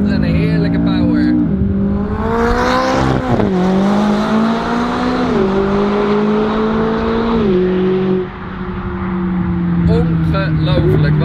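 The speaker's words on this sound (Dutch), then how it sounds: "Deze McLaren 570S, echt, die gaat er met je vandoor." A McLaren 570S coupe with Prior-Design styling accelerates hard, its engine note climbing in loud stepped rises through the gears, with a voice talking over it.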